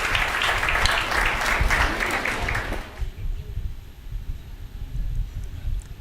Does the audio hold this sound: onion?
no